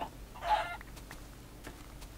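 A Minecraft chicken gives a single short cluck early on, followed by faint scattered game sounds over a quiet background.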